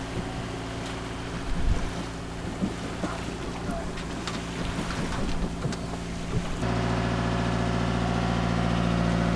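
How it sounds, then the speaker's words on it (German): A sailboat motors at sea under its engine into a headwind, giving a steady drone under splashing water and wind noise, with the engine growing louder and more even toward the end. "Wir motoren gerade wieder, obwohl guter Wind ist, aber der Wind kommt straight von vorne"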